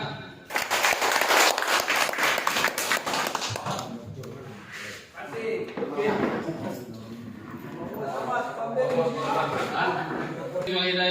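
Audience applause at a community policing gathering, a burst of close clapping lasting several seconds that fades as a voice begins speaking over the room.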